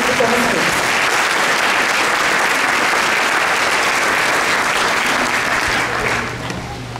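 A crowd gathered for an open mosque day applauds at length, many hands clapping in a thick, constant roar that tapers slightly near the end as a low hum emerges underneath.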